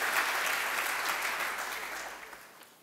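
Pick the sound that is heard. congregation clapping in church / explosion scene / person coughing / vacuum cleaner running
congregation clapping in church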